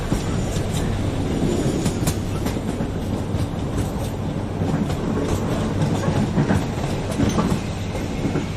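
Train wagons rolling steadily along the rails with a continuous rumbling clatter, close and even throughout, no voices over it.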